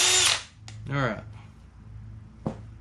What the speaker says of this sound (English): Done with the drill.